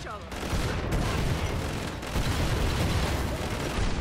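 Gunfire from a gun in the game Killing Floor 2 comes as dense, loud bursts of shots that fill the whole clip, with a short gap near the start.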